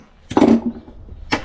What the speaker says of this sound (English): Nah, we'll use the axe.